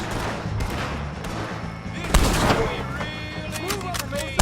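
Gunfight in Red Dead Redemption 2 against the O'Driscoll gang at Colm O'Driscoll's execution, with sharp shots cracking over a constant busy battle din, loud bursts near the middle and the end, and faint voices mixed in.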